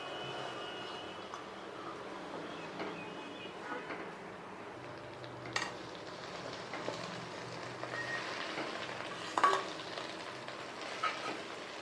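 Curry leaves fry in about a spoon of oil in a pan, giving a soft steady sizzle and crackle with occasional sharper pops and stirring clatter, fairly faint and with no talk.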